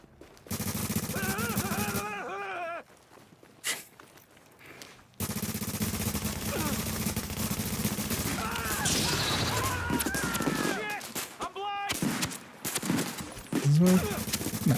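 Gunfire in the online shooter The Division, bursts of shots and impacts broken by short quiet gaps, with game voices and effects mixed in across the stretch.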